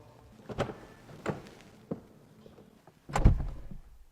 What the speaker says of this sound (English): Soft closing doors, of course